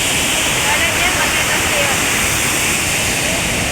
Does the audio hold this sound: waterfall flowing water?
yes